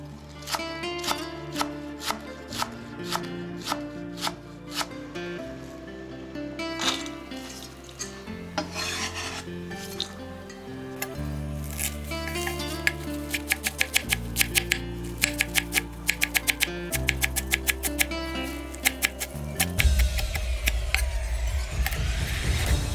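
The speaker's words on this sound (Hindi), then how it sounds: "तो हम इसको काटते हैं बहुत छोटा छोटा टुकड़े में।" A knife chops washed fenugreek (methi) leaves into small pieces on a board, with quick repeated taps in uneven bursts, close by and continuous under a faint background hum, no talking.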